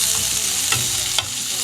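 Chopped onions sizzle and fry in a hot pan for a white vegetable kuruma, with a couple of brief stirring scrapes breaking through the steady crackle.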